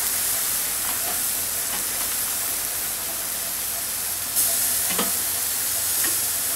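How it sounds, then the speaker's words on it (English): Rootbeer BBQ sauced chicken wings sizzling on a grill over hot coals, a steady close frying hiss with a few soft pops and crackles, heard alone without voices. "you put these wings right back on them hot coals, right over the top of them. Start getting that sauce to caramelize a little bit."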